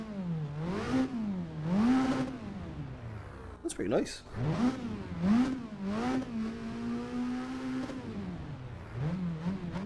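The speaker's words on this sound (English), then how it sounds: "Not sure what kind of engine it is. I would imagine like a 4-cylinder, but not entirely certain." A video game car engine revs repeatedly, its pitch swelling and falling in smooth waves, then holds a steady higher drone. A brief clatter and a short spoken remark break in near the middle.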